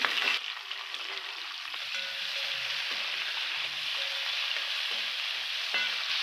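Big onions, green chillies and garlic frying in hot oil produce a steady close sizzle, with faint stirring scrapes breaking in now and then.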